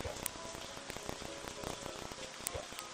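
Steady patter of rain falling from a rain cloud in the video game Mimpi, a dense even hiss with scattered droplet ticks, fairly quiet and continuous with no talk.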